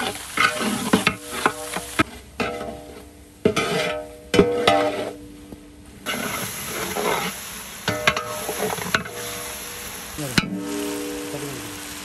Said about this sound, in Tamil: அடுத்து இப்போ நம்ம வெட்டி வச்ச தக்காளியை போட போகிறோம்.